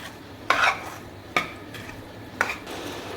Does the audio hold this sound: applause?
no